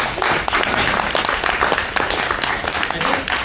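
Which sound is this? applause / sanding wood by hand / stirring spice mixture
applause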